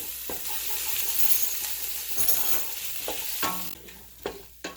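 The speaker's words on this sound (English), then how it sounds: "red curry paste and 1 teaspoon of freshly grated ginger. We're going to sweat this out." Red curry paste and freshly grated ginger sweating in a pot for a Thai butternut squash bisque, a soft steady sizzle broken by several spoon taps and scrapes against the pot.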